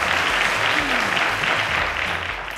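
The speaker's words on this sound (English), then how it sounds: "Round of applause to Favour, ladies and gentlemen." A studio audience at a quiz show applauds a junior contestant named Favour from Cross River, producing loud, sustained massed clapping with a faint low tone and possible murmur briefly underneath.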